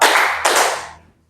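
Two quick hand claps ring out in a classroom focus game, loud and close, the second following the first after a short gap and fading into a brief room tail.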